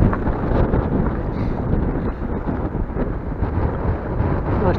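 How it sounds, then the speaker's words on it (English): Strong wind buffets the microphone over a choppy sea while paddling an inflatable Hobie Mirage kayak near Swanage, making a loud, steady roar and rumble with no voices. "the weather's getting up, and it's getting a bit breezy and choppy"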